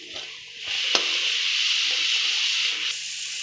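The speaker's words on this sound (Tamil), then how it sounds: "திருப்பி விட்டு இந்த மாதிரி கை விடாமல் கலந்துக்கிட்டே இருக்கணும்." Gram flour pakodas fry in hot oil with a continuous loud sizzle as they are stirred and turned, and an occasional sharp scrape or knock of the utensil cuts through.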